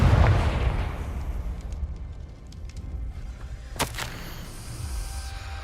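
A Confringo spell explosion in the Hogwarts Legacy video game opens with a loud, booming blast that rumbles and fades. A sharp crack follows a few seconds later, with no voices.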